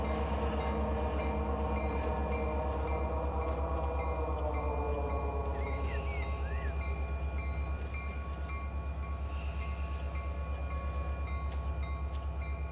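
Freight train in the Run 8 train simulator game braking hard, a continuous loud low rumble with layered tonal hum and brief squealing brake tones drifting over it, easing slightly toward the end.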